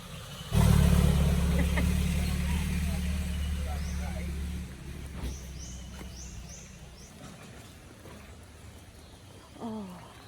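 A vehicle passes close by at a farm resort in Batangas, a loud engine rumble that swells suddenly and fades over several seconds, with outdoor background and faint bird calls.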